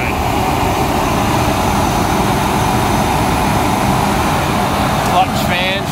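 Chevy S10 Blazer with a rebuilt 4.3 Vortec V6 running at a steady idle, with a knock in the motor and a clutch fan droning loudly and continuously throughout, close by.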